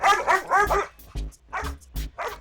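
A dog barks in a Hindi film scene, with a run of several quick, loud barks up close followed by a few more spaced, shorter barks and yips.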